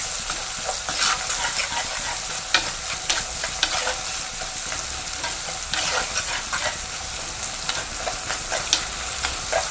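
Onion, chilli, tomato, crushed ginger and garlic frying in a pan while being stirred, a continuous close sizzle with scraping strokes of the spoon recurring throughout, no talking.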